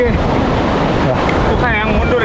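Ocean waves slosh against a boat off Ujung Kulon, a loud, close wash of water churned with wind buffeting the microphone.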